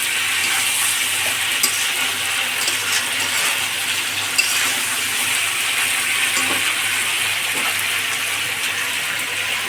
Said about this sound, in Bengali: আলুটা একটু নাড়াচাড়া করে জল দিয়ে দিব